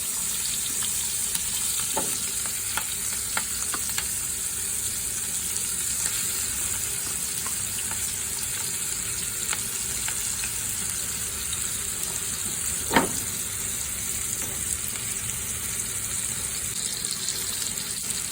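Hilsa fish frying in a pan with onions and green chilies, a steady close sizzle running throughout with a few sharp clinks from stirring.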